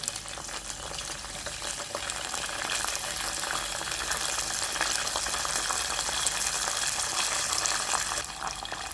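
Green chilies, curry leaves and dried red chilies fry in hot oil in a pan, giving a close, continuous crackling sizzle that grows slightly busier and stays steady throughout, with no voices.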